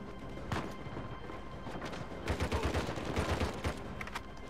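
Gunfire in the Uncharted 4 video game, with bursts of rapid shots and impacts over a constant game-sound background, moderately loud with no talking.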